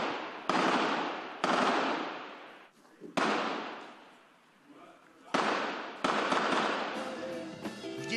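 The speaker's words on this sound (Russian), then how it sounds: "На позиции военных прилетает подствольная граната, после чего завязывается короткая перестрелка." Short exchange of gunfire at a military position after an underbarrel grenade strike, heard as several sharp, loud reports at irregular intervals, each trailing off into echoing decay.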